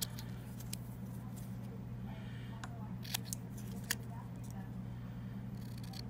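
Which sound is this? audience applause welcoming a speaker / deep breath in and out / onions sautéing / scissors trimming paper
scissors trimming paper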